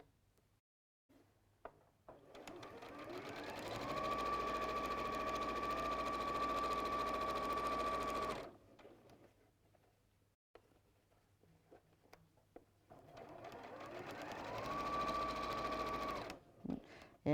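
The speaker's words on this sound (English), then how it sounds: "do a reverse stitch at the beginning and end, and use a 1/4 inch seam allowance." A sewing machine runs two steady bursts while stitching a quarter-inch quilt seam for a bee wall hanging, each a sustained whirring hum of several seconds separated by a quiet pause and a few small clicks.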